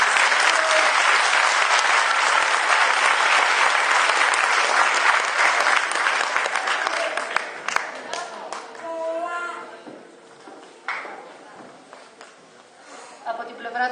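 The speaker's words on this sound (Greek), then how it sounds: "Τους αξίζει λοιπόν ένα χειροκρότημα." An audience at a school event gives sustained, dense applause that fills the room for several seconds, then thins out into scattered claps as voices begin talking.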